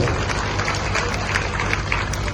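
A large crowd at a temple event in Mathura claps steadily and densely throughout, a continuous wash of applause from many hands.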